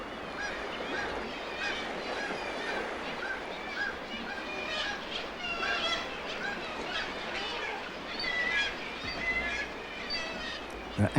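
Otter cubs give anxious, high-pitched calls in a dense, continuous stream over the steady roar of a thundering sea crashing against rocks, with no voice heard.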